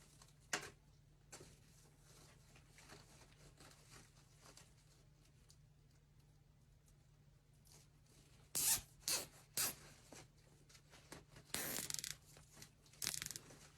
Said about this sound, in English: And zip tie, and we're going to cut that off.